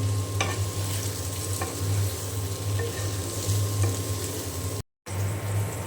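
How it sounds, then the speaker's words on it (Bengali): Eggplant frying in oil in a pan gives a constant, dense sizzle with a low steady hum beneath and a few faint clicks, close and even, briefly cut to silence near the end, no voices. "এখানে আমি তেল দিয়ে বেগুন দিয়ে দিয়েছি"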